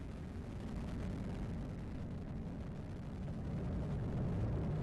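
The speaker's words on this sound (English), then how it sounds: "Liftoff of the United Launch Alliance Atlas V rocket carrying the third OTV mission for the United States Air Force." A United Launch Alliance Atlas V rocket carrying the third OTV mission for the United States Air Force lifts off with a steady, deep, distant rumbling roar that holds throughout and swells slightly at the end.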